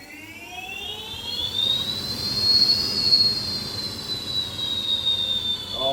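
A 6000 watt electric motorbike motor runs in reverse gear, its high whine rising in pitch, holding, then easing slightly over several seconds, steady and fairly loud with no voices.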